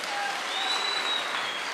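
A crowd of boda boda riders at a Nairobi meeting with President Ruto claps in a steady, dense wash of applause, filling the short stretch at an even level.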